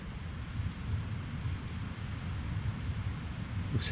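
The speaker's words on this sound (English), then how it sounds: "that sleety precipitation that's coming down and making everything feel so damp" Steady sleet hisses and patters outdoors in a winter storm, a dense, even wash of sound with a low rumble of wind, no voices.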